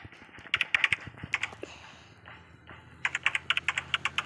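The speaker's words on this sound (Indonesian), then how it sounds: "Aku ngetik-ngetik yang ngasal aja ya" Random fast typing on a computer keyboard, two bursts of rapid clicking keystrokes separated by a short pause, close and clear with no talking.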